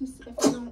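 A single short sneeze bursts out close by, sharp and breathy, right after a few quiet spoken words.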